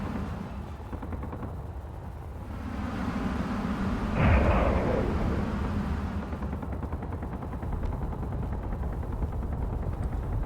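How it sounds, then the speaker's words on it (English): Gatling guns fire in the Space Engineers game, heard as a dense continuous rattle of bursts under steady engine rumble, rising to its loudest around the middle with a sharp burst, then rolling on without talk. "it tries to turn and shoot at me with the Gatling guns"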